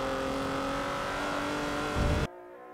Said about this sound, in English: raspy, like, race car sound to it, to this V8